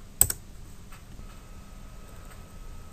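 A single sharp computer mouse click sounds close and crisp near the start, followed by a quiet room hum and a couple of faint ticks.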